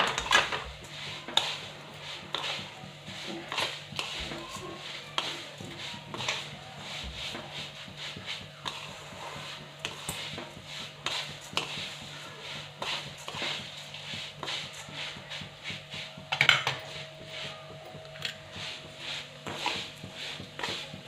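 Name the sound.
stirring and roasting vermicelli in a pan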